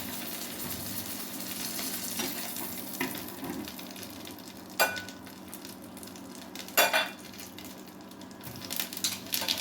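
Cumin seeds sizzle in hot oil left from frying fish, a steady crackling fry with a few louder clinks and stirring scrapes from a utensil against the pan.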